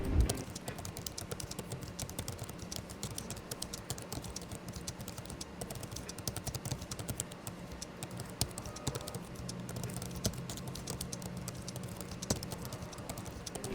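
Typing on the keyboard of an ASUS ROG Strix Scar 18 gaming laptop, whose RGB-lit keys register early in the stroke, gives a steady, fast stream of soft, close key clicks with no voices.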